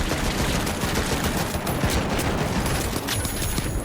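A dense burst of gunfire and a booming landmine blast rumble continuously for a few seconds in the video game The Finals, loud and chaotic, typical of a battle scene.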